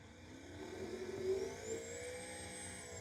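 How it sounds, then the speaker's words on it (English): Turbocharged Chevrolet Camaro drag car at a dragway, engine rumble heard faintly from a distance with a rising high-pitched turbo whine sweeping upward over the low drone. "that's got a turbocharger on it. You can hear it from up here in the tower, that high wind"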